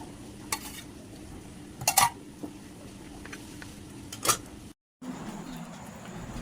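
Okra cooking down in a pan with a little water left, a quiet low sizzle under intermittent sharp scrapes and clinks of a spoon stirring against the pan, close by, with a brief dropout near the end.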